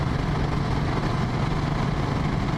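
A motorcycle idles steadily with a Volkswagen Beetle muffler fitted to its exhaust, giving a continuous, even low rumble close by with no talking.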